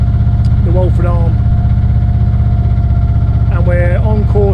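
A new narrowboat engine runs steadily on a canal, a loud continuous low idling throb that fills the whole clip, with a voice speaking briefly over it twice.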